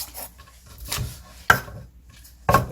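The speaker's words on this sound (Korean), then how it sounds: "청양고추하고 홍고추 하나씩 그리고 홍고추는 절반만 넣고요. 이렇게 썰어주세요." A knife chops Cheongyang and red chili peppers on a board in a home kitchen, three or four sharp separate thwacks spaced about half a second to a second apart, close and clear.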